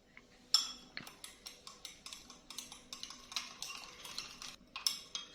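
A spoon stirs cocoa and sugar into hot milk in a cup, striking the sides in a steady run of quick light clinks and taps, close and quiet, with no talking.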